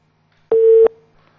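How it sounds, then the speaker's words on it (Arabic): Telephone busy tone on a call-in sports radio show after a caller from Menoufia is cut off: a single loud, steady beep about a third of a second long, clear and alone, with a faint line hum around it. "قطع التليفون."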